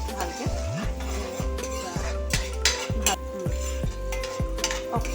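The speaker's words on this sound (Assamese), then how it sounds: "এতিয়া ডিমখিনি ভাজি দিছোঁ ভালকৈ।" Eggs frying in a wok with a metal spatula scraping and clinking against the pan in a steady repeated rhythm over a soft sizzle, close and fairly loud.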